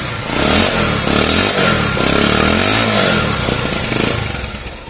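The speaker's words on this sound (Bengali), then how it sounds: "গাড়িটির পিক আপ যদি টানা হয় গাড়িটির সাউন্ড আসবে এরকম" A 2022 Bajaj Pulsar 150 cc single-disk motorcycle engine revving up close, loud and rough, its pitch rising and falling in repeated throttle blips over about five seconds.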